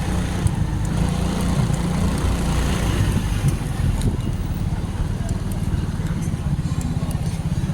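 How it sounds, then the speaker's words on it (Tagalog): A sputtering motorcycle engine runs close and loud for the whole stretch, its low, uneven pulsing steady throughout, with possible indistinct voices mixed in. "Pugak-pugak na ng makina ko."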